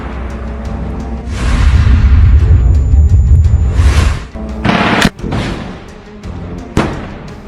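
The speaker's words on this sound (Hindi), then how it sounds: "तभी हमास का ये लड़ाका उन पर ये रॉकेट फायर कर देता है" A Hamas fighter fires a rocket at a building holding Israeli soldiers: a loud, roaring whoosh builds and sustains for a few seconds, followed by sharp, heavy bangs and booming impacts, with no voices.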